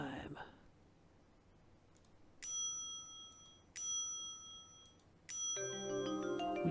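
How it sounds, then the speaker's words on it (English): A counter bell at a hotel front desk in Hotel Dusk: Room 215 on the Nintendo DS rings three times, each a bright, clear ding left to ring out, with the third followed by a short musical sting. "Let's ring the bell."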